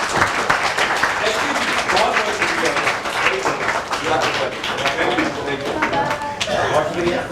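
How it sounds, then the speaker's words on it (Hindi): Audience at a school event clapping loudly and continuously for the children, a dense, sustained round of applause with some talk mixed in underneath. "एक जोरदार ताली सारे बच्चों के लिए और आपके लिए"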